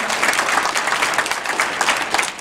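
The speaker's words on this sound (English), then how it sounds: "Let's give her a round of applause for that" Students at a school anti-bullying presentation applaud in a steady, fairly loud round of overlapping claps that carries through without a break.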